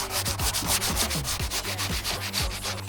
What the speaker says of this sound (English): we sand every part of the body